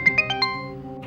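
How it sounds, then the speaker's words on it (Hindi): A phone ringtone plays a quick run of bright electronic tones, then a sustained chord, close and clear with nobody speaking. "उठा ले बेटा, किसी का जरूरी फोन होगा।"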